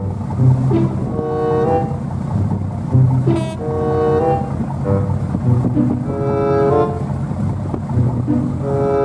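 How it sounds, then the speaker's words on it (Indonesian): Speedboat on the water, its motor droning steadily with shifting tonal hums and splashy wash, fairly loud and continuous with no voices. "Perahu cepat."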